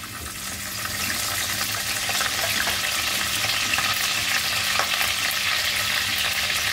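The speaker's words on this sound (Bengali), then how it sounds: "পাতাগুলো একটু ভেজা তাই একটু ফুটে আসছে" Wet curry leaves hit hot oil for a Kerala chicken dish, raising a dense, loud, continuous sputtering sizzle that builds in the first second and then holds steady, no voices.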